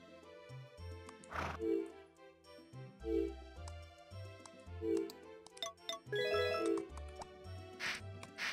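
A horse whinnies and neighs several times in Harvest Moon: Back to Nature, loud and close over a looping game soundtrack of plucked melody and bass.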